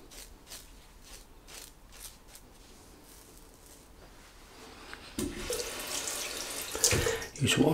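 A tap runs water while a Gillette Tech double-edge safety razor is rinsed, with a quiet stretch first and then a sudden splashing, hissing stream that grows louder near the end.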